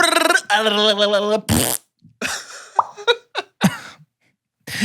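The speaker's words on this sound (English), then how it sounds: "going to win 1 million farts" Exaggerated comic fart sound effects come in several bursts, loud and close, alongside a voiced trilling burst, with brief gaps of silence between them.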